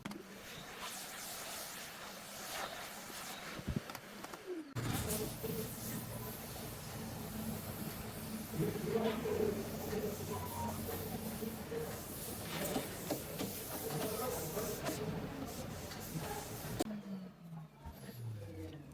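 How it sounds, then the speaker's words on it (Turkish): A vacuum cleaner sucking dust off an LCD TV panel, a steady, loud whooshing drone that starts abruptly after a few seconds, runs continuously and cuts off near the end, with faint handling noise around it. "Ama önce tekrar süpürgeyle üzerindeki tozu falan alacağım."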